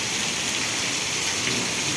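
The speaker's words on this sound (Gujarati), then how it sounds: "અત્યારે ભારે વરસાદ પણ પડી રહ્યો છે" Steady, dense downpour of heavy rain hissing evenly throughout, loud and close, with a low thunder rumble underneath during a lightning storm with strong wind in Vejalka village, Ranpur, Botad district; no voices.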